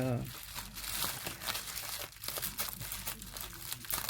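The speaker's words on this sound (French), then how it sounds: "Je vais défaire le scotch." Quiet crinkling and tearing of adhesive tape being peeled off a scrapbooking project, with soft rustles and pulls close to the microphone.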